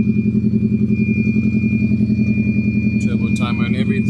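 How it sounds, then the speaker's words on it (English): A 1994 Subaru Impreza WRX with a large straight-pipe exhaust idles with a loud, rhythmic burble close by, and a voice talks briefly near the end. "Straight pipe is pretty large. You can hear it all the way from down the road."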